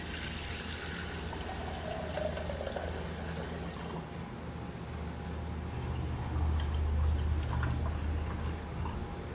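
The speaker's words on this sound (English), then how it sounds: "I'm going to fill this back up with some water so that we can boil our shrimp" Water runs steadily into a small bowl being filled for boiling shrimp, a continuous close trickle and pour whose tone shifts lower and fuller as the bowl fills.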